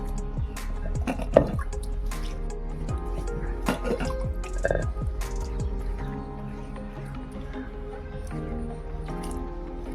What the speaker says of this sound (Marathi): आता थोडं पाणी घेऊन हे असं स्वच्छ धुवून घ्यायचं